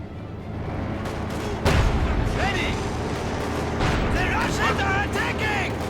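Artillery bombardment in Company of Heroes 2 during a 1v1 battle across ice, with booming blasts and rumbling impacts layered with scattered gunfire and whistling shells, dense and continuous.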